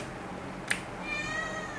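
A cat meows once for food, a short clear cry standing out over a quiet steady background hum.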